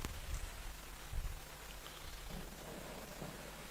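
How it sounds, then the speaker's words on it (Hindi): Steady rain falls in a dense, even hiss with a low rumbling undertone, continuous and moderately loud throughout, with no voices. "बारिश तो मजा ला देने वाला आ गया है।"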